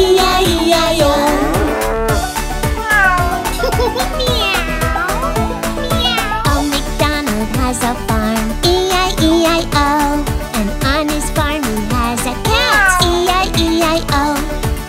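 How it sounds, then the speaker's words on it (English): Repeated meows ring out over a bouncy, busy children's tune with steady beats, the cat calls woven into the music. "A meow meow here and a meow meow there"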